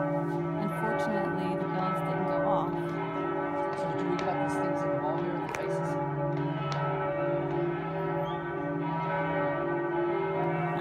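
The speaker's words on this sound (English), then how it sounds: "The bells go off at 2." Church bells ring continuously in Venice, layered sustained tones with a steady rhythm of strikes, moderately distant and filling the air.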